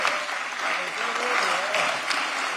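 A room at a city commission meeting breaks into sustained applause, dense and even clapping that stays close and steady from start to finish with a few voices underneath.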